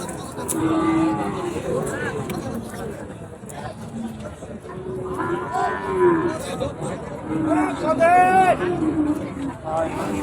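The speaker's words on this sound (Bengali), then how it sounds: "একেবারে সুস্থ সবল গরু" Cattle, including Sahiwal bulls and calves, low repeatedly with drawn-out moos amid a livestock market's crowd babble and chatter, some calls close and loud, others farther off.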